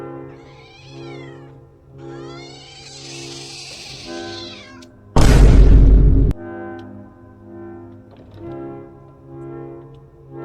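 A black cat meows several times in a row, a close, clear series of calls layered over a steady musical background, broken by a brief loud burst partway through.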